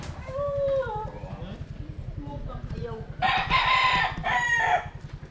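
A young gamecock stag crows loudly and close, two harsh cock-a-doodle calls near the end, after softer clucks and murmuring, while someone talks and a rhythmic low thumping runs underneath.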